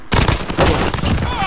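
PP19 Bizon submachine gun fire in Call of Duty Modern Warfare, a loud, dense rapid-fire burst of close shots running continuously for about a second and a half.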